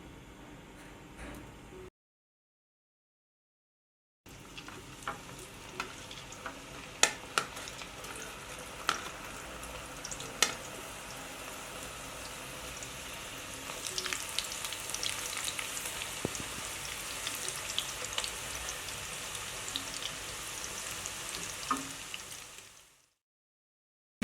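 French fries frying a second time in oil in a kadai make a soft, steady sizzle with scattered pops. It drops out briefly near the start, swells later, then stops abruptly, with no talking.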